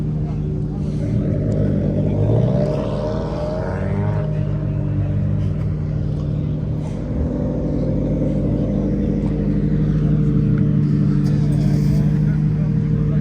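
Chevrolet Camaro ZL1 engine running nearby, a loud steady low drone that swells slightly as it revs, with someone talking over it.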